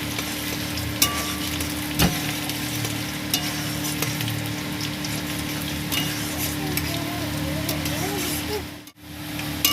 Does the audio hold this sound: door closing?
no